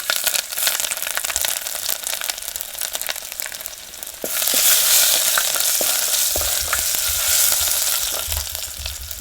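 Dried red chillies, bay leaf and garlic cloves sizzle in hot oil for a tuvar dal tadka, a steady crackling fry that swells louder midway and stays dense to the end, with no talk.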